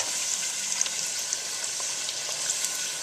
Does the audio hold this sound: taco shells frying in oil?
yes